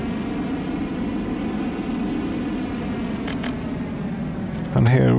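Steady, low hum of an airplane engine idling at an airport in Workers & Resources: Soviet Republic, continuous and even, with a couple of brief clicks and a sudden louder tonal burst at the end.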